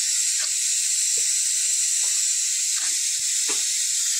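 A pressure cooker whistle vents steam in a loud, steady hiss that runs without a break, with a few faint clinks from stirring underneath.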